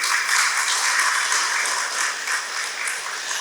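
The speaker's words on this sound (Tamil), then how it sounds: "உங்கள் வாழ்த்துக்களாக பிரதிபலிக்க வேண்டும் என்றால் உங்களுடைய கரகோஷம் வேண்டும்." Steady applause from an audience at an achievers' ceremony for a Madurai exam-coaching academy, dense and even throughout the short stretch.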